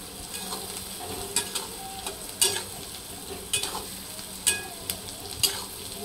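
Carrot frying in oil over a full gas flame for a masala sevai breakfast, a soft steady sizzle broken by sharp clinks and scrapes of a spoon stirring the pan every second or so.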